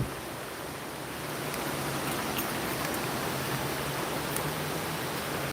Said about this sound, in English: the river's so loud